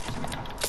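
A weapon reloading in Fortnite gives a short run of soft mechanical clicks and ratcheting clacks, close up but fairly quiet, under a busy game background.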